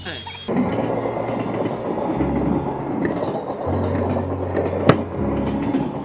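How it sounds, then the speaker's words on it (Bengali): Train rolling past a closed level-crossing gate on a village road, a steady low rumble with wagon clatter, heard from nearby at the waiting traffic, with a sharp brief squeal near the end. "এখন ট্রেন যাচ্ছে"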